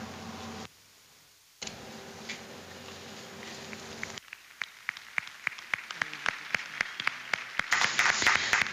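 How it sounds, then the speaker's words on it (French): Outdoor crowd applause on the Plains of Abraham park in Quebec City after a homily, a dense patter of distant clapping that starts after a short gap and thickens toward the end. "Les applaudissements qui éclatent sur ces plaines d'Abraham dans ce parc au cœur de Québec"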